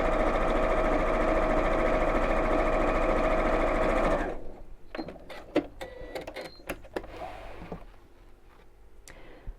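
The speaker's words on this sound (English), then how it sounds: "I'm just going to sew along this side" A sewing machine stitching along the side seam of a child's backpack runs steadily and loudly for about four seconds, then stops, leaving scattered clicks and handling noises of fabric and parts.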